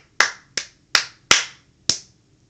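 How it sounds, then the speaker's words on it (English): Five sharp, separate hand claps in a loose, slightly uneven rhythm, close and crisp with quick decays against near silence. "Round of applause"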